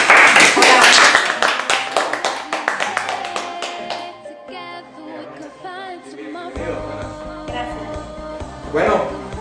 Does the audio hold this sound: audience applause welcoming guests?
yes